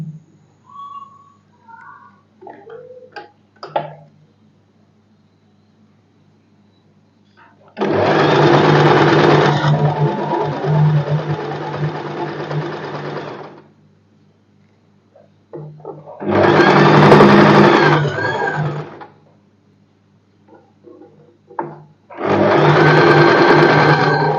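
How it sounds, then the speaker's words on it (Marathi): A sewing machine topstitches the waist of a padded princess-cut blouse, running in three loud, close bursts of steady whirring separated by quiet pauses, with some faint whistling and handling sounds before the first run. "आता आपल्याला कमरेला पण दाबशिलाई मारायची आहे"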